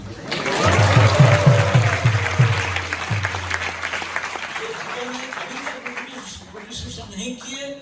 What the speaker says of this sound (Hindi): यहाँ बैठ कर जब ताली बजाएंगे